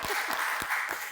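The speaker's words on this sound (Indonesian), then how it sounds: "tepuk tangan untuk Ferry Cowboy" Applause greets a guest, Ferry Cowboy, on a talk show: a brief, soft burst of hand clapping with a few distinct claps standing out, lasting about a second.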